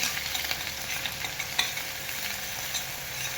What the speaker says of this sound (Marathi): इथं तेल पण आपलं गरम झालेलं आहे आता ही मसाला टाकून घेऊया